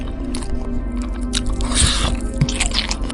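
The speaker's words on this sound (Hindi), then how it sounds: "आवाज ऐसी थी कि मानो कोई रबड़ के टुकड़े को जोर जोर से चबा रहा हो।" Someone chews hard on a piece of rubber, a wet, squishy chewing effect with irregular squelches and crunches, close and fairly loud.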